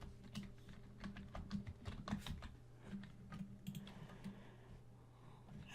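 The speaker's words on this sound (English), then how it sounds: "I will go in and type Dragon Axe" Computer keyboard typing an item name into a search box in Old School RuneScape, a quiet run of rapid, irregular key clicks continuing for several seconds over a faint steady hum.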